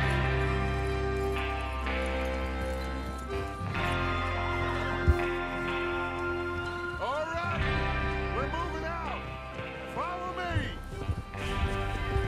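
Horses in Red Dead Redemption 2 whinny and trot over a steady bed of music, with hooves clopping through the middle and end and voices talking now and then.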